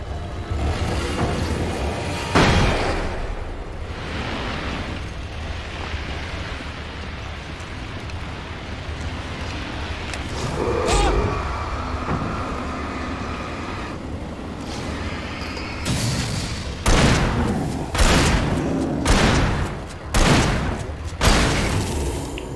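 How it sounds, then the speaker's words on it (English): Flashbang explosions in the video game Alan Wake: several loud, sharp bursts and booms scattered over a constant rain-like hiss, with a cluster of heavy blasts near the end. "I thought I had the flares on, but I guess I got flashbangs."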